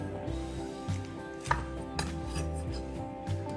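A sharp knife slicing through a homemade Alaskan sushi roll and nori on a board, a few soft cuts and light taps against the surface, close and quiet with no talking.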